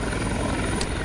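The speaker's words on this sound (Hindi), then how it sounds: "केशव प्रसाद मौर्य का हेलीकॉप्टर उतरा" Deputy CM Keshav Prasad Maurya's helicopter landing at a police lines ground, a steady, loud rotor-and-engine roar filling the short moment without pause.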